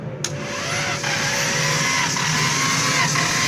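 A car engine cranks steadily during a compression test with the throttle body held open and a slightly weak battery, a continuous close whirring drone with faint rhythmic pulses.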